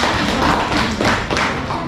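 A classroom of students claps for a student group, a dense, steady burst of many hands that holds at even loudness for about two seconds.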